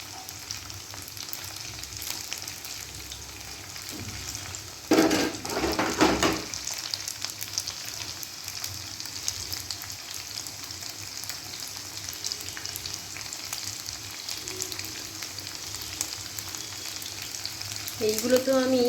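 Food frying in oil in a pan over a low-to-medium flame in a home kitchen, a steady soft sizzle throughout with a brief louder burst of stirring partway through.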